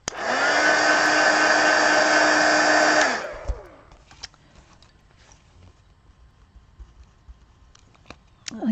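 A handheld heat tool blows loudly and steadily up close to dry paint on a small art card for about three seconds, then shuts off, leaving faint taps and quiet movement.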